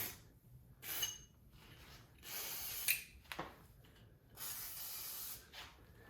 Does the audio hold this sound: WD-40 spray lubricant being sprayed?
yes